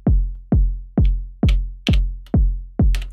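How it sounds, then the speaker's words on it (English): Kick drum from an Elektron Syntakt on track 9, filtered down to low end, thumping in a steady four-on-the-floor pattern: seven deep, punchy hits with decaying tails, loud and alone, with a faint click on some beats. "So first of all, there is a kick drum on track 9."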